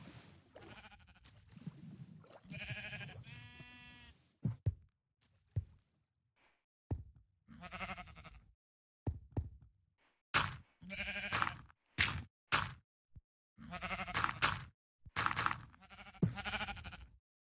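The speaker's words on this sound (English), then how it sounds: "Ooh, sheep! Let's go get the sheep." Several short sheep bleats in Minecraft sound one after another, fairly close, separated by gaps of quiet, with a few soft clicks between.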